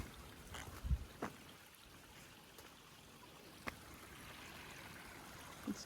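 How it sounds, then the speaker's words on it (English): A small creek flowing beside a wide hiking path on a mountain trail gives a faint, steady trickle and wash of water, with a few light knocks and footstep-like thumps over it and no talking. "It's a cool little stream here,"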